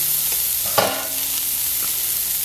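Celery and peppers hit a hot pan with a short burst of sizzle, then settle into a steady, close frying hiss with faint stirring clatter and no voices.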